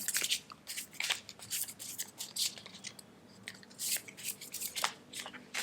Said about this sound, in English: it's going to take a bit of shuffling of different decks